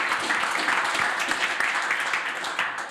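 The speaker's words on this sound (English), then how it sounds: "Give them once again a warm applause" Warm applause from a seminar audience at an IoT PhD school, a steady dense wash of clapping hands that holds for the whole stretch without any talk over it.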